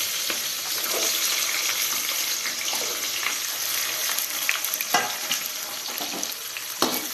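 Garlic, ginger and dried red chillies sauté in hot oil with a steady, close sizzle while being stirred, and a few sharper scrapes and knocks come near the end.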